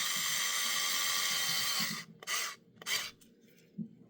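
A small 4-volt cordless electric screwdriver with its clutch on the lightest setting drives screws into a toy die-cast car: a steady close whirring motor for two seconds, then a few short separate buzzing bursts.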